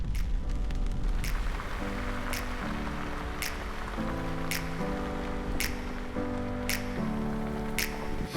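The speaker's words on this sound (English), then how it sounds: "it is starting to rain a lot harder" Heavy rain falls during an overlanding trip on Michigan's State Line Trail in the Ottawa National Forest, a constant dense patter heard beneath a song with sung vocals and sharp rhythmic beats.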